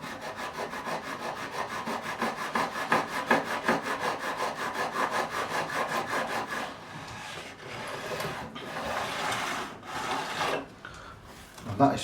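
Metal file rasping back and forth across guitar fret ends to shape a bevel during a Michael Kelly Patriot Premium refret, a steady rhythmic scraping of even strokes, close and alone, thinning into sparser strokes toward the end.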